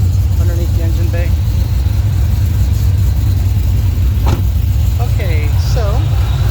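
A 2014 Shelby GT500 with a 2.6 TVS supercharger sits idling, giving a steady, loud low rumble throughout while faint voices and a few brief chirps rise over it.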